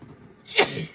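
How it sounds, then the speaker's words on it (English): A single sharp, close sneeze from a person bursts out after a quiet lead-in and is followed by a brief breathy tail. "Every time I do a jewelry video, I have to sneeze."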